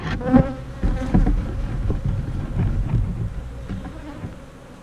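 Honey bees buzz densely around a hive box, a close, steady swarm hum with intermittent louder passes near the microphone.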